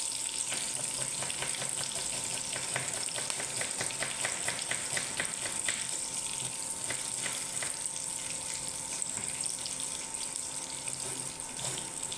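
Onion and green chilies frying in a pan, a steady, fine hiss of sizzling oil that runs evenly throughout with faint scraping and no talking.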